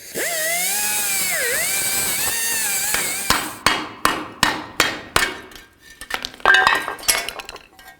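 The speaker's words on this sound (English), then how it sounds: "You're going to notice that it's riveted in, so you're going to have to cut those out of there." Rivets being cut out of a fuel tank strap bracket on a 1994-2004 Chevy S-10: a sustained, wavering high whine from a cutting tool, then a series of sharp, evenly spaced metal blows and a few scattered clinks, all close.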